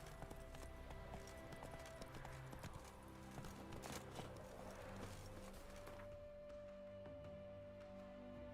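Horse hooves gallop in The Witcher 3 video game, a steady clip-clop running under dense game music and ambience at a constant moderate level.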